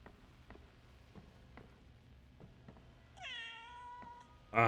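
A cat in the video game Crime Scene Cleaner gives one drawn-out, clear meow after a run of faint, evenly spaced taps, then a sharp louder burst follows right at the end.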